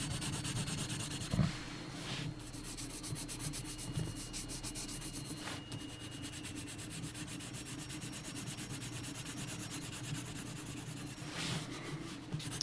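Graphite pencil shades across paper in a Waterhouse mermaid drawing, a close, continuous scratchy rubbing with rhythmic back-and-forth strokes and brief pauses, no talking.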